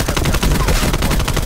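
AK74u automatic gunfire in Black Ops Cold War on the Nuketown hardpoint map: a loud, continuous rapid-fire stream of shots with a steady, relentless rhythm and no pauses.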